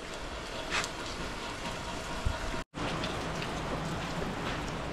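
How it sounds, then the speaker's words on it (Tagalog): Steady rain during a typhoon pours onto a rooftop deck, a dense, even hiss with scattered drop impacts and one brief dropout midway, loud and continuous with no talk. "Ayan, ulan."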